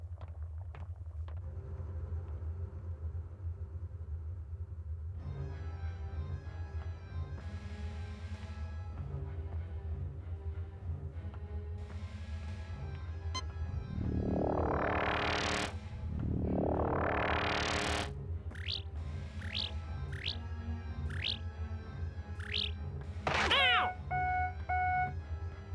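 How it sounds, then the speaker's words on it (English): Machinery hums in the engine room of the submarine Nautilus in a cartoon, a low steady drone under layered mechanical tones, with two loud rising whooshes midway and a burst of quick electronic beeps near the end. "I will show you the engine room of the Nautilus."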